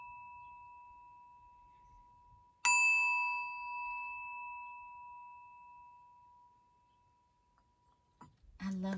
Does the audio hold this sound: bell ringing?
yes